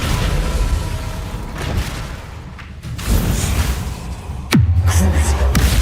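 A Descendo spell striking in Hogwarts Legacy: a rushing magical swell builds, then a sharp, loud impact with a deep booming tail, heard up close against steady game ambience.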